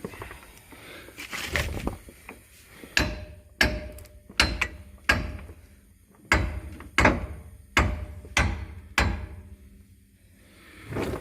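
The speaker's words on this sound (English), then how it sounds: "A little hammer here." A hammer strikes in a series of sharp, irregularly spaced taps, about a dozen blows, close and loud, with short pauses between bursts.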